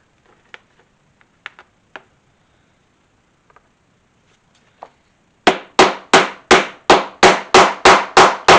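A hammer sets the top snap on a leather card wallet resting on an anvil: a few light taps, then about ten loud, evenly spaced blows close up.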